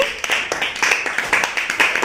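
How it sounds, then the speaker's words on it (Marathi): Hands clap in applause for a child who solved a triangle puzzle, a quick series of sharp, fairly close claps in an uneven rhythm with a faint voice underneath. "त्यासाठी टाळ्या वाजवा"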